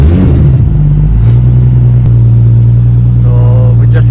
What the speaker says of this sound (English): So we just got the car started.